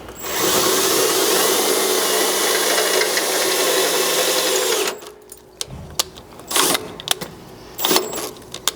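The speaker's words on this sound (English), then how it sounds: "we'll go ahead and drill our first pilot here" A power drill bores a pilot hole with a drill bit while fitting a slider on a 2nd-gen Toyota Sequoia, a loud steady whine for about five seconds, then stops, followed by scattered clinks and handling knocks.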